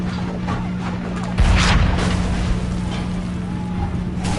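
A cannon fires in the video game Assassin's Creed 3, one heavy boom that rolls out amid constant battlefield noise and ambience.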